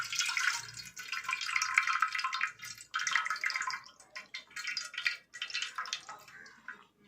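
Tamarind water is poured through a strainer into a pot for fish curry, a close, splashing trickle in several bursts with short pauses between pours.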